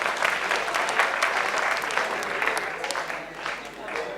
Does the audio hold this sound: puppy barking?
no